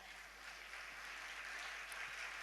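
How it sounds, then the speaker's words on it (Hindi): A temple audience at a Jain sermon gives steady, sustained applause as a dense wash of clapping heard faintly from a distance, with no talking. "आप लोग अपने लिए एक बार सम्मान में तालियां बजाएं।"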